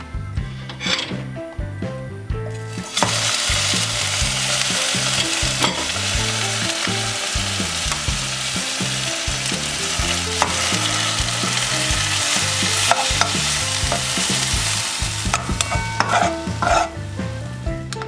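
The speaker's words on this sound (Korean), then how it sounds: "이 팬에 달궈진 팬에 기름을 두르고 김치를 볶아줍니다" Kimchi stir-fried in oil in a preheated pan, with a loud steady sizzle and repeated scraping strokes of a utensil against the pan, close and continuous throughout.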